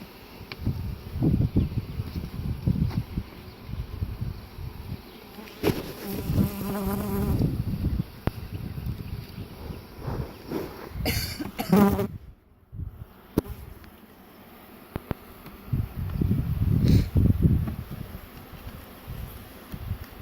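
Package honeybees buzz in a steady, close drone with rustling and handling noises mixed in, swelling louder at times, no one speaking.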